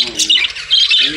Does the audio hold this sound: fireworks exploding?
no